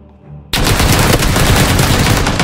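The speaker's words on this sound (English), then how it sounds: "I shot him multiple times" UMP submachine gun fire in PUBG, a loud, continuous rapid burst of shots that starts abruptly after a brief quiet moment and rattles on steadily to the end.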